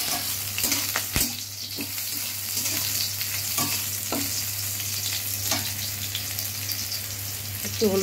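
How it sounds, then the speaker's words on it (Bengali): Bitter gourd fries in mustard oil in a wok, giving a steady close sizzle with occasional stirring scrapes and clicks throughout, no voices. "উচ্ছে কেটে নিয়েছি, এটা ভাজবো।"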